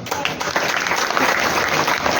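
A seminar audience at the Shivam Inn Hotel claps in sustained, dense applause that stays loud and even throughout, with no voices over it.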